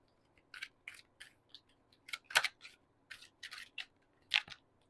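Crystal tarot cards slip out of a deck in a quiet room, giving a series of faint, crisp, separate clicks and snaps, with one louder sharp clack midway.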